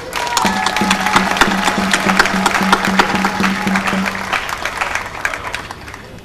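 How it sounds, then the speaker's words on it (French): Sustained applause from an audience at a formal address in honour of a First Lady, a dense wash of clapping that holds steady for about four seconds with a steady tone running under it, then thins out and fades. "que je vous demande d'applaudir"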